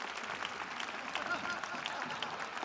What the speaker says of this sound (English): let's clap hands for Bruce Fordyce once more again,